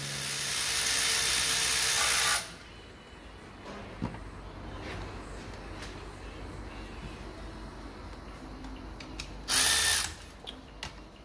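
A loud power tool removing engine mount bolts whirs in a sustained burst, stops, then buzzes again briefly later, with quiet clinks and shuffling in between.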